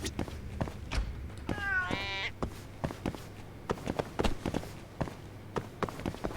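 Cats in the video game Judgment give one clear meow amid a string of soft footstep-like taps and thumps, moderately close with no talk.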